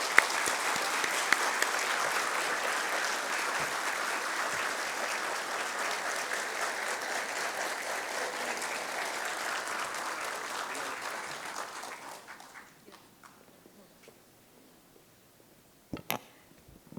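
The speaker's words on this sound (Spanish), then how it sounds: "Un fuerte aplauso para ellos." Conference audience in a lecture hall gives sustained, dense applause for the heroes of 30 May, steady for about twelve seconds before thinning into scattered claps and fading out, followed by a few faint knocks.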